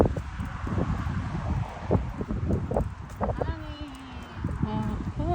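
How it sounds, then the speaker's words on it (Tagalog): Gusty wind buffets the microphone in uneven bursts at an apple orchard, with rustling and scattered footsteps, while a person talks intermittently nearby in Filipino. "Mahangin dito"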